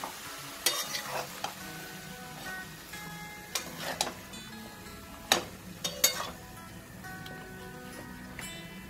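Mixed vegetables for a traditional Bhogi dish being stirred in a pan after water is added, with repeated scraping and clinking strokes of the spoon over a soft, steady simmer.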